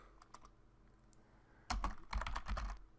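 Quick keystrokes on a computer keyboard enter a crypto key command for a network router. After a quiet stretch with a few soft taps, a dense, close burst of typing follows.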